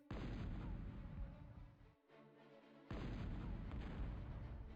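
Heavy Punisher artillery booms out in a Total Annihilation real-time strategy match, a dense rumbling barrage that drops away briefly before the deep thuds resume, with no voices.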